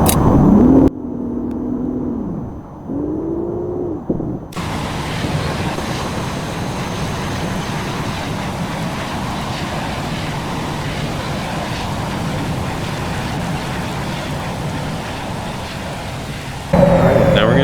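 A jet aircraft in the VTOL VR flight game accelerates for takeoff during a touch-and-go with flaps set, its engine noise forming a loud, steady roar that holds for most of the stretch after a brief quieter gap.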